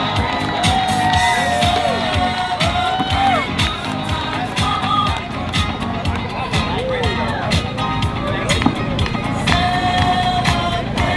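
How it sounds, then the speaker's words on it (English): A lively crowd at a student awards recital claps, cheers and whoops continuously, with shouted voices mixed into the dense, energetic noise throughout. "Give him a round of applause, everyone."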